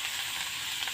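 Leafy greens (shak) frying in a pan of oil after chillies, a soft, even hiss of sizzling heard close but fairly quiet, continuous for a moment with no voices.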